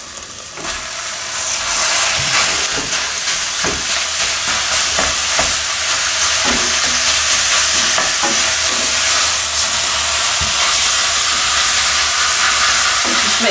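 Five hundred grams of lean mince browning in a frying pan, a loud sustained sizzle and hiss with frequent scraping, clacking stirs of the spatula repeating across the whole stretch.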